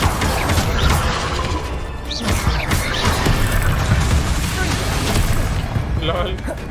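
In the video game Hogwarts Legacy, the Confringo fire spell lands with loud crashing, booming blasts in dense succession amid combat clatter, while someone talks over the action.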